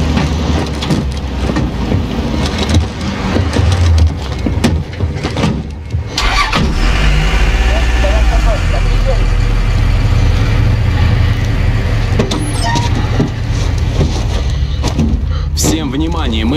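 Military vehicle engines in a Call of Duty: Modern Warfare (2020) mission start up and rumble into a steady low drone as they drive off, with radio chatter and voices talking over the engine noise.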